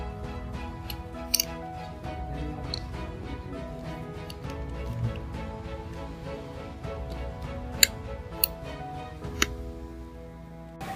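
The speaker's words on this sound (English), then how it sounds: "we will take a syringe and then we will cut it from where the needle starts" Scissors cut through a plastic syringe near where the needle starts, to shape chalk pastels, with a few sharp snips and soft crunching clicks over a quiet, close background, and no speech.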